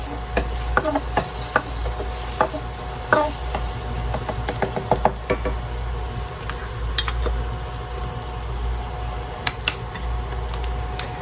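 A steak sizzles in garlic butter in a pan on a hot plate, with a steady frying hiss close by and scattered scraping and stirring clicks from a utensil.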